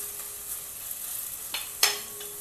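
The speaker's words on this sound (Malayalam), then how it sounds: "പച്ചമണം ഒന്ന് മാറുന്ന വരെ ഒന്ന് വഴറ്റിയെടുക്കാം." Ginger and garlic sauté in oil in a pan for a Tamil Nadu style chicken curry, giving a faint steady sizzle with a few soft stirring scrapes and one sharper clink near the end.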